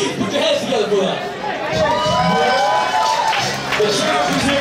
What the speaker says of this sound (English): give a big round of applause for our first musical guest